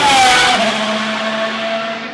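Formula 1 race cars at the 2023 Monaco Grand Prix scream past around the harbour, a loud, continuous high-pitched engine whine that drops in pitch as a car passes close by and then fades slightly.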